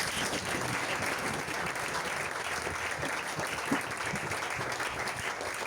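A church congregation applauds and cheers in steady, dense, sustained clapping that fills the space evenly without a break.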